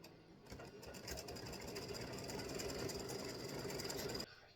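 An embroidery machine stitches a set of baseball-themed tic tac toe game pieces at 600 stitches per minute, a steady, fast mechanical whir with rapid needle clatter running continuously at close range.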